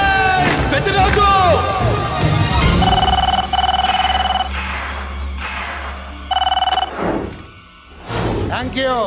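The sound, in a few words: telephone ringing in a movie scene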